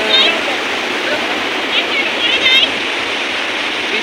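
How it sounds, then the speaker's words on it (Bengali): Large ocean waves crashing on the beach at Digha, a loud continuous roar of surf and spray washing throughout, with faint voices and a brief whistle-like call in the background. "দেখো বড় বড় ঢেউগুলো কি সুন্দর নিচ্ছে"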